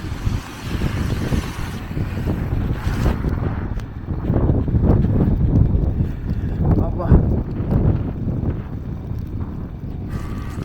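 Strong, cold wind blows outdoors in France on the day of the first snow, roaring and buffeting the microphone in a loud, continuous, gusting rush that swells in the middle.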